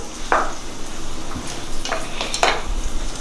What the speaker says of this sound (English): To the pan for the chard, you're gonna add shallots.